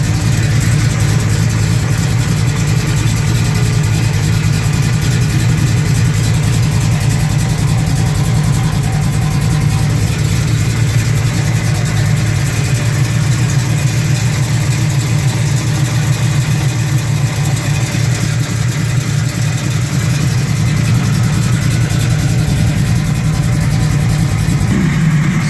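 A 1968 Chevy Camaro's 396 V8 with Edelbrock Performer aluminum heads runs steadily, a loud, continuous deep engine rumble held for the whole stretch with no talk over it.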